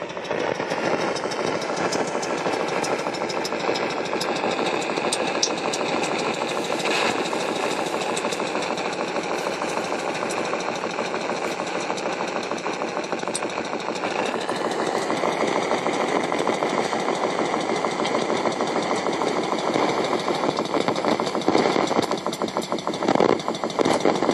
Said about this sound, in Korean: 좀 노골적으로 기계 돌아가는 소리입니다